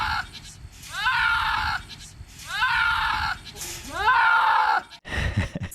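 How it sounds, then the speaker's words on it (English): A goat lets out three long, loud, wavering screams that sound strikingly like a human yelling, each followed by a brief pause, ending with a few thumps. "find goat who sounds like a screaming person"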